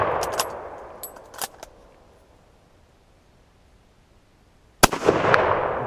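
Gunshots from corrosive surplus ammunition fired at a can outdoors, a couple of sharp cracks early with fading echo, a quiet gap, then another loud shot followed by a rushing noise.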